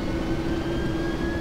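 Vulcan bomber BMk2 jet engine number two spooling up in the X-Plane video game, a loud steady roar with a sustained rising whine held throughout.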